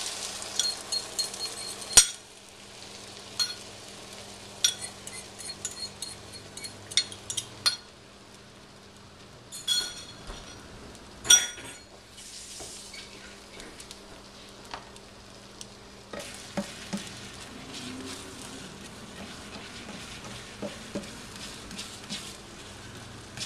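Scrambled eggs seasoned with salt and pepper sizzling softly in a pan greased with Pam cooking spray, a faint steady frying hiss broken by scattered utensil scrapes and clinks against the pan.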